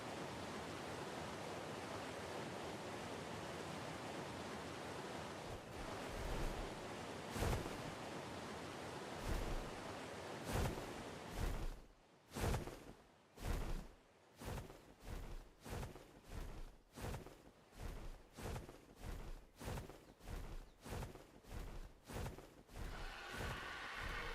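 Steady broadband rush of a waterfall in the video game ARK on the Valguero map, constant and loud, later cut by a regular series of sharp clicks or thumps.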